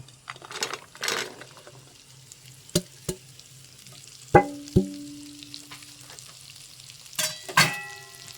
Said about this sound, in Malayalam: ഇതിലേക്ക് നമ്മൾ നേരത്തെ വറുത്ത് വച്ചിരിക്കുന്ന മീൻ ഇതിലോട്ട് ചേർക്കണം